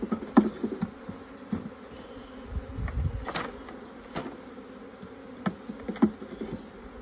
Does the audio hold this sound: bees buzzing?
yes